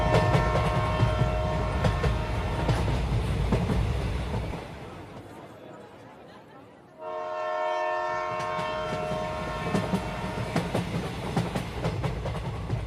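A Canning local train in a cartoon sound effect: loud, steady rumble and clatter on the rails, a brief drop to near quiet, then tonal horn-like notes over renewed rolling clatter.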